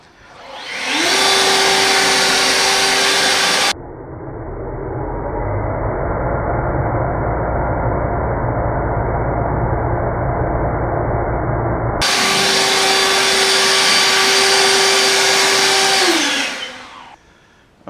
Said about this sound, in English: I'm just gonna get my handy dandy Ego cordless blower and get rid of the mess